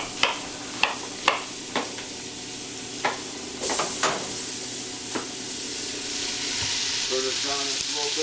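Onion chunks go into a hot skillet with butter and garlic, bringing several sharp stirring knocks, then a sizzle that rises and settles into a steady loud hiss close up.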